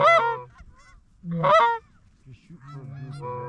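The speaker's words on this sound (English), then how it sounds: "There's little geese. I love little geese." Small geese honk in an open field during a hunt: two loud, close bursts of layered calls separated by quiet, then softer scattered honks trailing off at the end.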